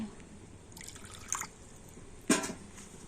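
Water splashes in two short bursts into a bowl holding about four spoonfuls of vinegar; the pours are quiet and close, with soft dribbles between them.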